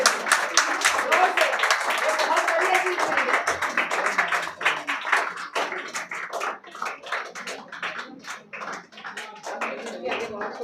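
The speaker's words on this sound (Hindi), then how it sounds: "तालियां बजते रहना चाहिए. तालियां बंद नहीं होना चाहिए जब तक फेलिसिटेशन पूरा नहीं होगा." An audience claps steadily and continuously at a book launch felicitation, a dense crackle of many hands with a few louder close claps standing out near the end.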